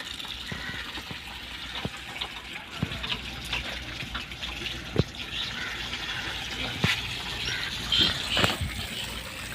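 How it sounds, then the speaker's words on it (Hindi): Water gushes under pressure from a newly fitted ablution tap at a mosque, a steady rushing stream close by with scattered clicks and splashes, and faint voices in the background. "पानी देखिए कितना माशाल्लाह प्रेशर से"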